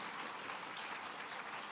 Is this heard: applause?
yes